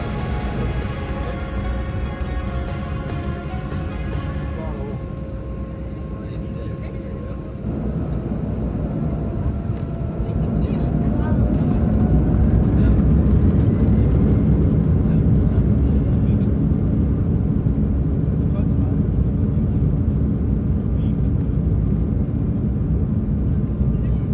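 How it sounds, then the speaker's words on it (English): A German Airways airliner takes off from Amsterdam, heard from inside the cabin as a steady roar that swells and grows louder as the engines spool up, then holds a deep, broad rumble. "Taking off out of Amsterdam, we begin our second leg back up to Aberdeen."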